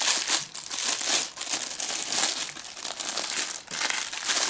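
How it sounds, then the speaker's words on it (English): Crinkly wrapping is pulled off a new clarinet's lower joint, a close, continuous rustle and crumple of plastic packaging for several seconds. "We'll take it out of this fancy wrapping."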